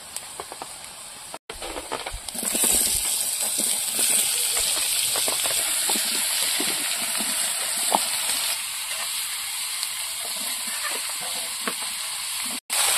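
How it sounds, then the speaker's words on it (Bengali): Bottle gourd goes into onions already fried in a small kadai. A steady hiss and sizzle swells after a short pause and holds, with faint clinks over the frying. "পেঁয়াজটা ভেজে নিয়েছি। এবার লাউ দিয়ে দেবো।"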